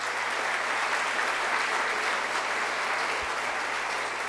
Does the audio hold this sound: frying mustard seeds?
no